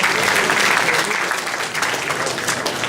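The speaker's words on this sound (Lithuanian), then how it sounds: "Plojimai" Audience applause follows a talk at a 2011 Lithuanian startup weekend event: dense, loud clapping from a crowd that holds steady for a few seconds and eases slightly toward the end.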